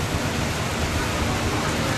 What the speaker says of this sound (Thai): ครับวันนี้เราก็ติดฝนกันอีกแล้ว